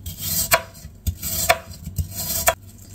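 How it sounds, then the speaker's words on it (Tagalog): A knife slices thinly through soft food for a quick dessert, giving about six short crisp cuts spaced roughly half a second apart, close and clear with no talk. "Saka natin siya hiwain ng manipis."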